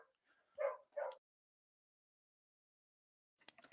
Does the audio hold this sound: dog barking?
yes